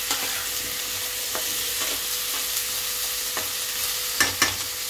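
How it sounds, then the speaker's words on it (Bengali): Steady hiss of raw green pumpkin frying in a pan, with a few scraping stirs of a spatula breaking through near the end. "এবার এটাকে আমি ভালো করে ভাজা করে নিচ্ছি।"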